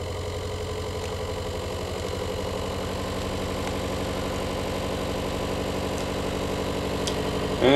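A Ford Model A engine running on only some of its cylinders, a steady, even chugging idle heard close up and alone, with a louder burst at the very end.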